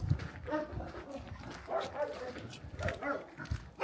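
Dogs in a rural Portuguese village bark and yip repeatedly at middle distance, with people talking nearby and outdoor ambience throughout.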